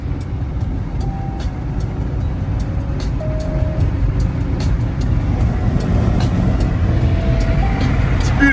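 Steady low road rumble of a car driving home, a continuous broad drone with brief faint tonal chirps and some light clicks above it, no talking.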